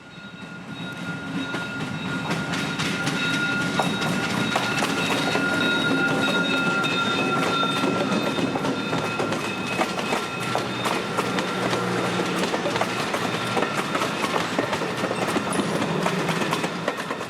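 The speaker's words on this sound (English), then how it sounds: "The locomotive would be leading 3 passenger cars, passing me around 10:15 this morning as it cruises north and into the Lake DTC block." A rebuilt EMD SD40 diesel locomotive leading three passenger cars rolls past on the old Seaboard line, its engine drone steady and close with rhythmic wheel clicks on the rails, no talk.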